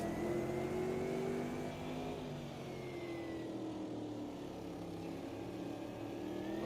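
Classic GT race cars racing in a video game, heard from a bumper-mounted view: a close, loud engine revving and shifting pitch continuously, with tones rising and falling through gear changes.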